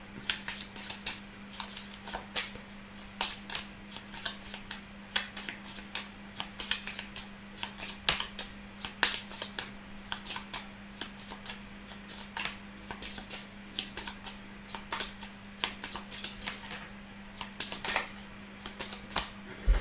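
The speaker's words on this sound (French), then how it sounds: "On va utiliser le jeu de 32 pour voir ce qui ressort pour cette semaine. Donc, je vais mélanger les cartes." A 32-card deck is shuffled by hand, giving rapid, crisp riffling clicks and card slaps in repeated bursts, close and fairly quiet over a faint steady hum.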